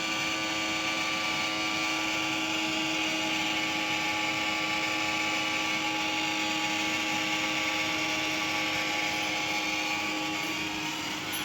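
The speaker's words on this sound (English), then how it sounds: "You can see dust going inside of vacuum cleaner." A homemade vacuum cleaner runs steadily, sucking up dust and thermocol balls, with a constant loud motor whine and hum holding unchanged throughout.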